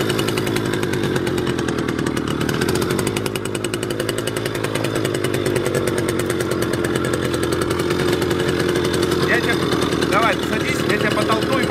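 An engine drones and revs under throttle, a buzzing, chainsaw-like rasp that holds steady with slight rises in pitch, while someone talks over it.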